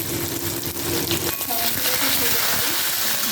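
Dried and green chillies, panch phoron and cumin sizzle in hot oil with a bright, crackling fry, as a voice talks over the cooking.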